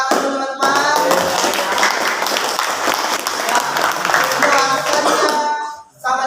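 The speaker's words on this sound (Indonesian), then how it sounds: "Tepuk tangan dulu, teman-teman." A classroom of students claps for a classmate's presentation, a brisk burst of many hands that starts abruptly, holds steady and loud for several seconds, then cuts off at the end.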